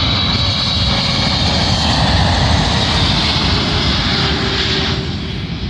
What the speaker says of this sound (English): Arriving in now is a Saudia flight, I believe born of a Boeing 777, working a service from Riyadh to London Heathrow.